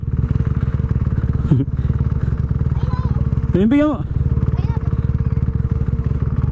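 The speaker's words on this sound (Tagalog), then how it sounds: "Oh, may motor." A motorcycle engine idles and runs close by with a steady low drone, under casual talk from people nearby, with a couple of brief thumps and clatters.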